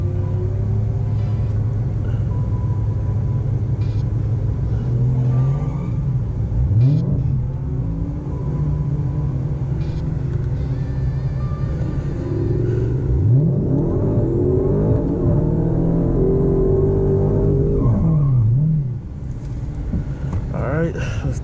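A stock Dodge Challenger Hellcat Redeye spins its tires out of a water box at a street racing event, its supercharged engine rumbling and revving in repeated loud surges, with a voice speaking over it.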